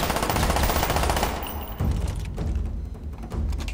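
Galil rifle firing in the Black Ops video game: a rapid, dense automatic burst fading after about 1.5 seconds, followed by scattered thuds and shots in the game mix.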